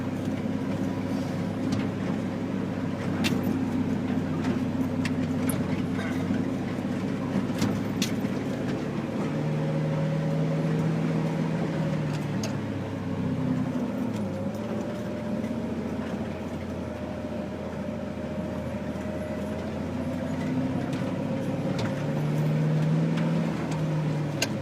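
A Legacy Classic Trucks NAPCO Chevy truck runs off road, its engine a steady loud drone with rising and falling pitch through a gear shift, rumbling continuously alongside wind and bumps with no talk.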